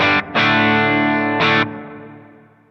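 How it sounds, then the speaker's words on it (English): An electric guitar played through the distortion effect of an M-Vave MK300 multi-FX unit rings out in loud, saturated chords, struck twice, with the second chord left to sustain and fade. "Oh, that's the distortion."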